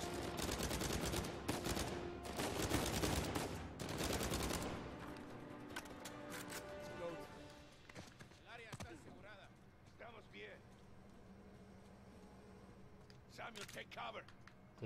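Rapid bursts of gunfire from a weapon in Uncharted 4, loud and dense in the opening seconds, then thinning to scattered shots and impacts over game ambience.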